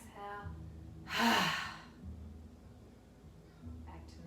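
A deep breath is let out through the open mouth in a vinyasa yoga session, heard as one strong breathy exhale in the middle, with faint voice tones before and after it.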